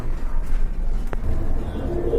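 Pigeons coo low and close in a loft of mixed local and foreign breeds, soft rumbling calls running through the short stretch with a brief sharp knock midway.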